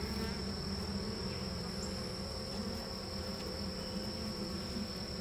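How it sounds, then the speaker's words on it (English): Honey bees buzz densely and steadily over a frame lifted from a horizontal hive, a close, continuous drone with no talking. "A lot of bees on this frame."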